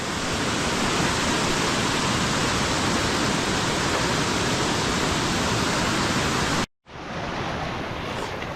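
River water rushing steadily and loudly down a canyon on a hike, a dense continuous roar that cuts out abruptly near the end and then resumes slightly softer.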